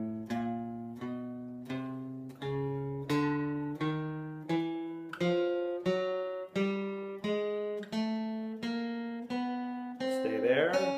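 Guitar playing a two-octave chromatic scale pattern: a steady run of single plucked notes, each ringing briefly before the next, climbing evenly in pitch from note to note, loud and alone.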